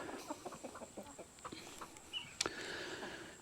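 Chickens cluck in a netted outdoor corral, a quiet run of short clucks and calls spread out at a moderate distance, one sharper squawk near the end, with no talking.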